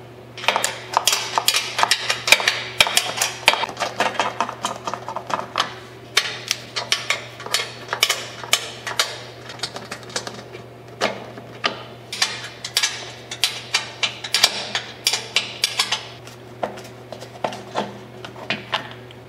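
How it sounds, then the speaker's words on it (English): Bolts on a Cub Cadet Ultima ZT1 42 zero-turn mower's spindle cover are worked off with a 3/8 wrench, giving a long run of quick metallic ratcheting clicks in uneven bursts over a low steady hum. "Using your 3/8 wrench, you're going to remove these 3 bolts."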